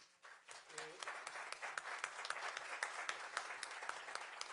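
Faint audience applause for the speakers at the close of a keynote conference on justice administration, a steady wash of many hands clapping at a distance, with a brief voice near the start.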